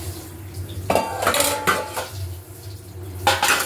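Dishes and cutlery clink and clatter in a sink, several sharp knocks of metal on metal with a low hum beneath.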